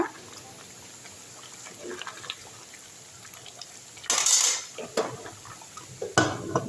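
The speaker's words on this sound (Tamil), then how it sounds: "இன்னும் 1 முறை கிண்டுங்க." A pressure cooker of mutton biryani being stirred, with a few metallic scrapes and clinks of a utensil against the pot, louder bursts near the end over a quiet kitchen background.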